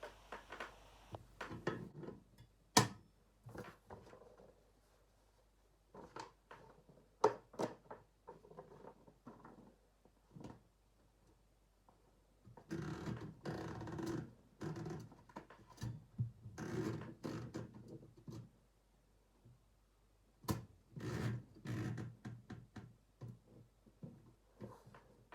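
Olivetti Lettera 32 portable typewriter typed in quick bursts of sharp key strikes with brief pauses, close and clear in a quiet room.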